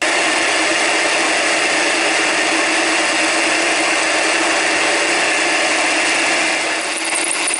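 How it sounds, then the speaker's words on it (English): A drill bores holes on a milling machine in a workshop, making a steady, loud, continuous whirring grind that runs unbroken throughout with no one talking. "So I'm gonna try to drill the holes as low as possible."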